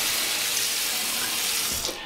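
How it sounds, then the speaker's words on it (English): Tap water running steadily into an RV bathtub, a continuous broadband hiss that stays close and even for about two seconds before easing off at the end. "I'm going to add about that 2 gallons of water in here. I'm going to do it up in the bathroom. I'm going to do it at the tub."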